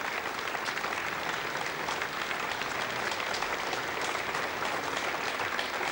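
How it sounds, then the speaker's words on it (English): A crowd at an Ariane 5 launch viewing breaks into sustained applause after both satellites separate, a dense, continuous roar of many hands clapping at steady volume throughout. "the crowd very politely holding all applause until both satellites were separated"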